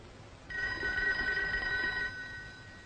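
A telephone rings with a bright electronic trill lasting about a second and a half, fairly loud and close in an indoor room, then stops, with no voices over it.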